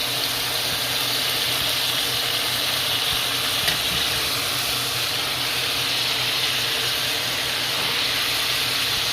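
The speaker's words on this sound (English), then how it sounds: "I'm going to take the kale here, this beautiful kale, and I'm going to dump that into this pan here" Fresh kale dumped into a hot pan for a southwestern frittata sizzles steadily, a constant broadband frying hiss with faint stirring, close and even throughout, no voices.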